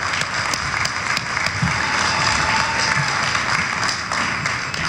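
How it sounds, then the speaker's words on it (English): Steady round of applause from a crowd at a transit line ribbon-cutting ceremony, a dense, even patter of many hands that holds at constant loudness throughout. "which I think is worth a round of applause"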